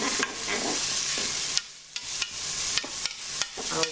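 Aubergine pieces sizzle and fry in a hot pan, a dense steady hiss broken by repeated scraping stirs, close and continuous with no voices.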